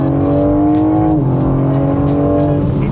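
A 2021 BMW M4 Competition G82 engine drones loudly from inside the car, a deep steady tone that drops in pitch midway as if shifting, with faint ticking clicks above.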